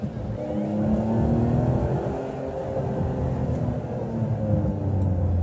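A 2009 Ferrari 599 GTB Fiorano engine gives a steady low rumble with a smooth, continuous drone and slight shifts in pitch as it cruises, with no talk.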